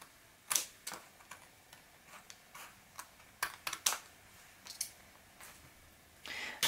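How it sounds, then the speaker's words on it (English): Craft paper being cut for a handmade wedding guest book, a series of sharp, close snips and clicks spaced irregularly over a quiet background, with no talking. "so I'm going to cut this bit here"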